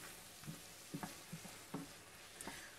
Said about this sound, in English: Now stir it up.